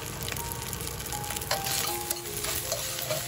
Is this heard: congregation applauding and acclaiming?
no